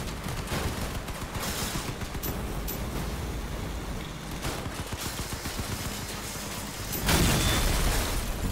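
Gunfire in the vehicle combat game Crossout, a dense, steady barrage of shots and bursts running throughout, swelling louder near the end with a heavier explosive blast.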